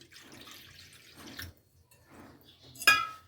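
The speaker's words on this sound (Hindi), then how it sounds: "और दूध से थोड़ा ज़्यादा हम इसमें डाल देंगे पानी।" Water poured into a large pot while making bread rolls, a few soft splashing trickles followed by a sharper final splash, quiet and close in a kitchen.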